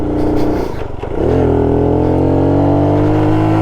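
A cheap adventure motorcycle's engine revs loudly and close, dips briefly as it shifts up, then settles into a steady, strong drone.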